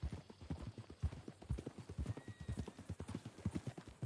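A horse's hooves clip-clop at a steady walking rhythm in the Red Dead Redemption II video game, close and clear, with a faint whinny mixed in.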